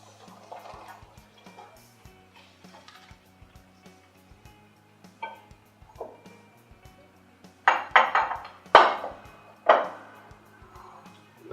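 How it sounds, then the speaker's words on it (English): A spoon clinks and scrapes around a mixing bowl of zucchini bread batter, with sparse light taps at first and then a cluster of louder, sharper metallic knocks near the end. "Just stir that with a spoon"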